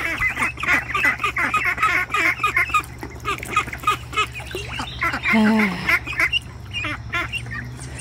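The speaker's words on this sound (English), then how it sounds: "The big ducks are complaining." Ducks quack and honk in a busy, overlapping chorus, with a few louder calls standing out from the flock.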